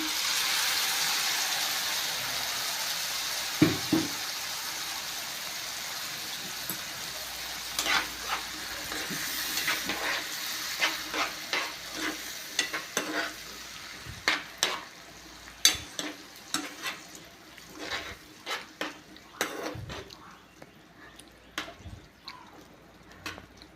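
Ground tomato puree being fried in a pan for paneer masala gives a steady, close sizzle that gradually settles, broken by frequent scraping stir strokes and soft wet clicks that grow more spaced toward the end.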